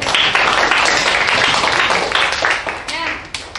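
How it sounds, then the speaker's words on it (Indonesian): Students in a classroom clap together, a dense burst of applause that gradually thins toward the end, with voices mixed in. "tepuk tangan untuk kalian semua"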